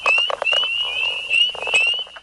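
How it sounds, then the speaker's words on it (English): Frogs and toads call in a dense, continuous chorus, with rapid pulsed trills and croaks layered over one another at close range and steady loudness throughout. "The sounds of frogs and toads."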